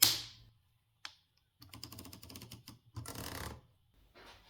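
Remington Noiseless typewriter mechanism being worked by hand, a sharp opening clack, then a single click and bursts of rapid muffled key and carriage clatter separated by short pauses, close and alone.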